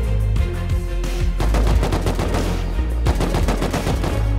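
Bursts of AK rifle fire in the video game Rust, loud rapid automatic rattles in several strings separated by short pauses, sharp and close, with no talking over them.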